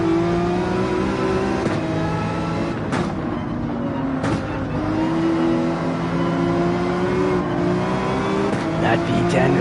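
V10 BMW race car in Gran Turismo 7, its engine revving hard and steadily through gear changes with brief tire squeal, loud and continuous.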